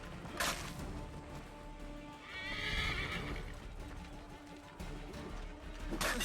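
A horse in Assassin's Creed III whinnies in a short, bright neigh near the middle, with hoof clatter and sharp impacts before and after.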